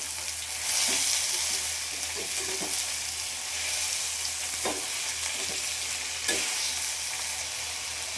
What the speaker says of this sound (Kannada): ಇವಾಗ ಅವ್ರೆಕಾಯಿನ ಬೇಯಿಸ್ಕೊಂಡಿದ್ದೀನಲ್ಲ ಹಾಕ್ತೀನಿ.